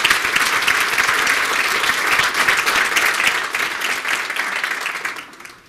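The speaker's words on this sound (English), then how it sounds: "Please join me in giving them a round of applause." An audience applauds current athletes at a homecoming hall of fame event, with steady, dense clapping throughout that fades out at the end.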